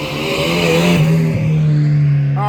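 A Volvo 740 drift car held near its rev limiter in third gear on corner entry, its loud engine droning at a steady high pitch with a brief dip midway and tire noise underneath.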